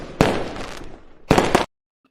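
Fireworks go off in two crackling bursts, the first a long fizzing spray of pops and the second a shorter, sharper volley, moderately loud and heard alone before an abrupt cut to silence.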